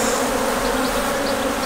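Dense, steady buzzing of many bees, close and loud, continuing without a break, during uncapping of drone brood at a hive.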